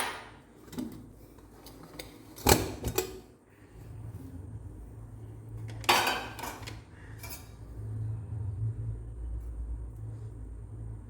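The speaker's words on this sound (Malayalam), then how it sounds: "കുക്കറിൽ ആവി പോയിട്ടുണ്ട് നമുക്ക് തുറന്ന് നോക്കാം" Metal clatter and clanks of a pressure cooker lid being handled and lifted off after the steam has been let out, a few sharp knocks over a low kitchen rumble, no talking.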